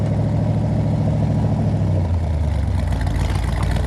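A 1969 Chevrolet Corvette with its original numbers-matching 350 V8 runs on a cold high idle, a steady deep rumble that shifts slightly lower partway through, close and loud with no talk.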